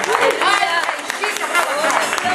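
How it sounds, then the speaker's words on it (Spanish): A church congregation gives loud applause to God during a Sunday service, dense clapping mixed with crowd voices, a preacher's voice calling over it. "dale un fuerte aplauso a Dios, dale un fuerte aplauso"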